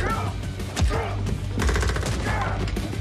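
Rapid gunfire from the action film Nobody (2021) crackles in dense bursts of shots, loud and close, with voices talking over the shooting.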